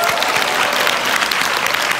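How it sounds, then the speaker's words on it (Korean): Steady, dense applause from a large audience at a company seminar award ceremony in a hotel, sustained and even throughout with no pauses. "다시 한번 큰 박수 부탁드리겠습니다"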